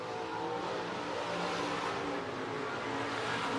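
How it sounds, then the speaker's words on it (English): A race car engine roars continuously on a track, loud and steady throughout with a broad, dense drone and no talk over it. "Hearing one of the 15 cars,"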